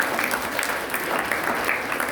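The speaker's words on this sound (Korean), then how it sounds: "우리 이 시간 귀한 강의 들려주신 탁지원 소장님께 우리 다시 한번 박수 드리겠습니다" An audience at a high school church worship service claps together after a guest lecture, a steady, even wash of applause that holds at moderate level for the whole stretch.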